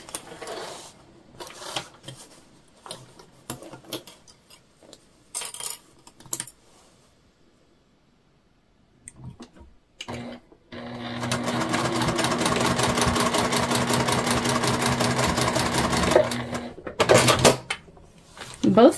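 Sewing machine back stitching a beginner fabric bag: scattered clicks and handling noises with brief talk, then a sustained steady motor whir of stitching for several seconds, stopping near the end.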